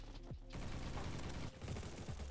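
Gunfire from several players in the Roblox shooter Bad Business, a dense, loud volley of overlapping shots that keeps going with only a brief gap near the start.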